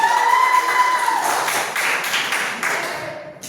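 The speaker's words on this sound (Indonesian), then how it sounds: "Kasih tepuk tangan dulu." A group of students claps in a classroom, a burst of quick hand claps that starts strong and tapers off over a few seconds, over a faint ringing tone at the start.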